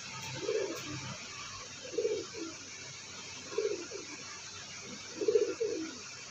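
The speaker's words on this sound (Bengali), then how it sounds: "এই হচ্ছে ওই নর পায়রাটার মাদা পায়রা" A female pigeon coos in four separate soft bursts spaced a second or two apart, close by against a quiet hiss of background noise.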